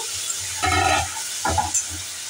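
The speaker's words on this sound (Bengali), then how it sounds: "এবার আমি ঝিঙের ঢাকনাটা খুলে ঝিঙেটাকে ভালো করে আবার নাড়াচাড়া করে দেব।" Ridge gourd cooking in a pan is stirred with a spatula, giving two short bursts of scraping and soft sizzling over a low, steady hiss. No one speaks.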